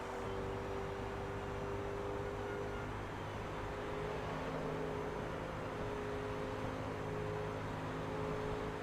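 Race car engine droning steadily through a lap in the video game Forza Motorsport 2, a continuous, even hum with no gear changes or voices.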